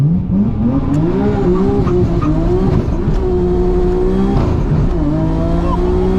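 A Nissan Skyline GTR R33 launches hard, its engine loud and close with revs rising and shifting steadily throughout, and tire squeal blending into the roar.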